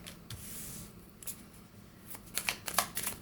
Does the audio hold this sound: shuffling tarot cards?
yes